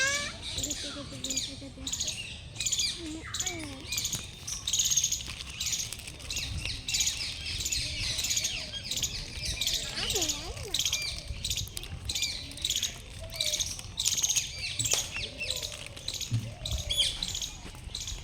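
Outdoor birds, including parakeets perched nearby, chirp and squawk almost nonstop in a dense, lively chorus of overlapping calls close by.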